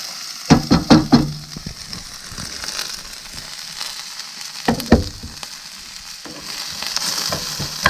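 Onions fry in a pan inside a camper van, giving a steady soft sizzle with sharp crackles and a few clattering bursts from stirring near the start and middle.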